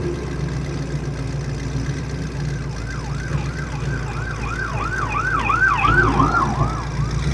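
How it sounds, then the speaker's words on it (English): Ambulance sirens wail in a repeating rising-and-falling pattern, growing louder as they approach and pass by on the road, heard over the low rumble of a 1979 Pontiac Trans Am's engine. "We'll let all these ambulances go here real quick"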